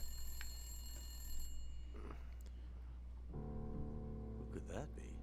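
Telephone ringing inside The Long Dark video game, a faint bell-like ring under a low steady hum, with a brighter warbling ring arriving near the end.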